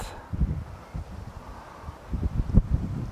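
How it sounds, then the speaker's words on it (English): Strong gusts batter an outdoor microphone while a drone is held by hand, a low rumbling roar that surges in bursts, loudest near the end. "It's extremely windy."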